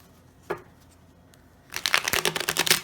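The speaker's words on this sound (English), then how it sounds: "It does shuffle nicely." A glossy tarot card deck is shuffled up close: one early flick, then a loud fluttering riffle of rapid card snaps for about a second.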